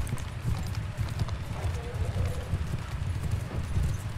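Horses gallop across a Bannerlord battlefield, a dense, continuous rumble of hoofbeats at moderate distance, with faint background chatter and wind-like noise underneath.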